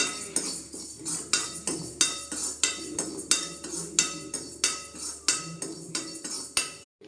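Urad dal and fenugreek dry-roasting in a pan are turned with a metal spatula, making a steady run of about sixteen sharp scrapes and clinks, roughly two per second, close up with no talking.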